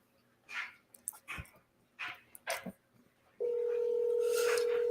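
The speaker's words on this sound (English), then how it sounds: "I just start dialing when I'm in this like power hour mode" A telephone dial tone comes in loud and steady near the end of the clip as a call is dialed, following several short bursts of faint talk and background sounds.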